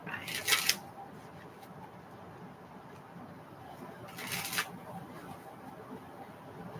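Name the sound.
shuffling tarot cards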